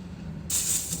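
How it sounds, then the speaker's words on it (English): PB penetrant sprays onto a hub bearing seat of a 2006 Chevrolet Equinox, a single sharp hiss starting halfway through and lasting about half a second, close and moderately loud. "Now I'm gonna take some PB and spray all up in here, right where the bearing sits."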